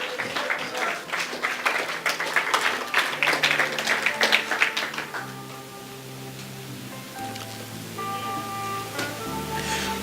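A church congregation claps and applauds in praise during a Spanish-language sermon, a dense crackle for about five seconds before giving way to sustained organ or keyboard tones.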